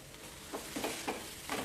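Potato paratha stuffing being sautéed in a pan, giving a soft, steady frying hiss with a few louder stirring scrapes spaced through the short stretch.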